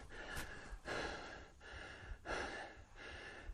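A horse in training breathes heavily in slow, rhythmic bursts, with airy exhalations and soft snorts about every second and a half, faint and close.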